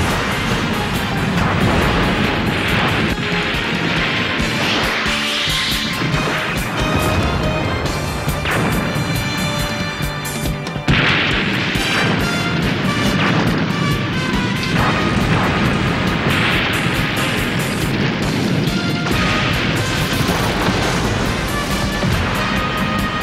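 Police cars blown apart in Seibu Keisatsu stunt explosions: continuous heavy booms and roaring blasts under loud, dramatic music throughout.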